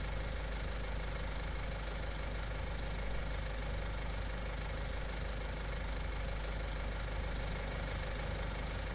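A farm tractor's engine in a video game, a steady droning, knocking diesel rumble as the machine reverses into a small bay, constant and loud with no pauses.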